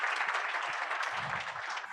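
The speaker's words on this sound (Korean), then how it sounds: "박수 한 번만 주시면 좀 힘내서 할 수 있을 것 같습니다" Soft audience applause at a corporate partners' day presentation, a brief, steady wash of clapping from a modest crowd, fairly faint and distant.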